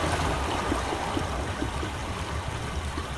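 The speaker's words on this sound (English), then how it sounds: "Sounds like there's water rushing through the pipes now." In the video game Myst VR, steady rushing and gurgling of water flowing through pipes, continuous and fairly close, with no voices.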